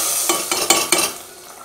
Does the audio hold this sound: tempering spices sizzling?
yes